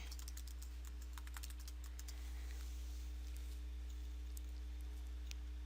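Quiet, rapid clicking of keys on a computer keyboard as an email address and password are typed, the irregular taps running on over a low steady hum with no voices.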